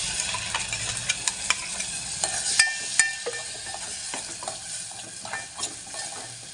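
Ground tomato puree and tamarind water cooking in oil for hotel-style rasam, a constant fizzing sizzle dotted with light clicks and scrapes of stirring, close and fairly quiet, with no voices.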